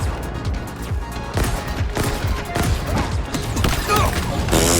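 Rapid bursts of gunfire and crashing impacts from a video game, loud and continuous throughout, with faint talk underneath.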